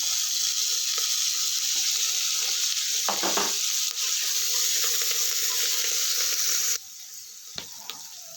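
Mint and curry leaves sizzle in hot oil in a pan for coconut milk biryani rice, a loud, steady hiss up close with a few brief clinks and stirring scrapes, easing slightly near the end.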